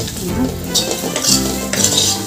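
Okra pieces stir-fried in a pan for an okra tomato curry, with a spatula scraping and clinking against the metal in a few strokes over a steady sizzle, close and fairly loud.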